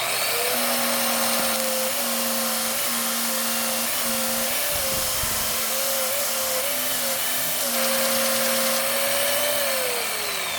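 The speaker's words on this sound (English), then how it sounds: "we're gonna go ahead and sand this part up that we just cut" A power sander works over a freshly cut red oak revolver grip blank, a steady close mechanical whine and drone holding for about ten seconds, with a brief rougher grinding patch midway and no talk.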